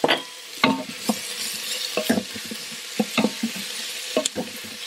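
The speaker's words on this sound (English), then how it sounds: "I'm gonna saute a little bit." Onion, garlic and pork sautéing in an Instant Pot: a soft sizzle under irregular clinks and scrapes of a utensil stirring, close and moderately loud, with no talking.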